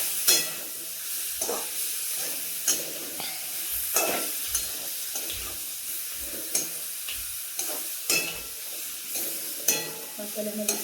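Chopped fresh eggplant is stirred and fried in oil with masala, giving a continuous sizzle. Repeated scraping and stirring strokes from a spoon in the pan sound close by throughout.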